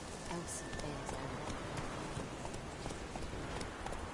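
The horse Roach galloping in The Witcher 3, a quick rhythmic drumming of hooves on the ground running continuously, moderately close, with faint voices speaking under it.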